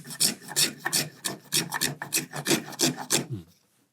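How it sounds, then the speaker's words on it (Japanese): A Japanese spokeshave makes a trial cut on wood, giving a rapid series of close, raspy shaving strokes in an uneven rhythm that stop abruptly near the end. "今試しに削ってみたところなんですけど、やっぱこういう風にカンナくずが詰まりやすいんですよね。"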